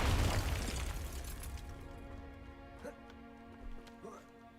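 A Confringo spell detonates in Hogwarts Legacy, a deep boom at the start that rumbles and fades, followed by a couple of smaller pops, with a voice speaking over it.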